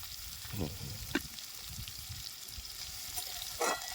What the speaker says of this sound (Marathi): तेल टाकल्यावर तळून घेते आणि हळद मीठ टाकते आणि परतते